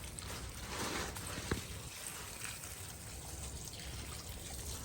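Water trickles and splashes while dried Byadgi chillies are washed by hand, a soft continuous wash broken by one small clink.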